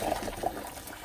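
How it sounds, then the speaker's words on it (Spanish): Boiling water poured over wild boar meat in a kitchen, a brief continuous splashing gurgle, close and moderately loud. "Le voy a echar agua hirviendo"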